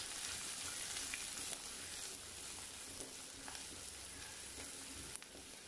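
Chopped onion sautéing in hot oil with cumin for an oyster mushroom masala, a steady dense sizzle with faint crackles and a few sharp pops, constant and close throughout.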